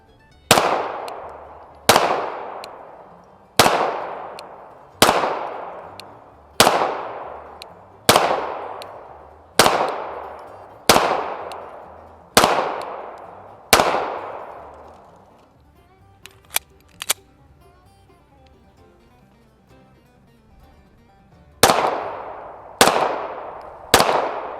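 A steady series of sharp pistol shots from a real pistol fitted with a Streamlight TLR-1HL weapon light, about a dozen evenly spaced cracks with ringing tails, a quiet pause, then three more shots.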